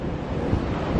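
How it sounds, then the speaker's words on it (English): Steady, rushing wind on a cruise ship deck buffets the microphone with a low roar, loud and continuous, with no voices. "It's really windy today"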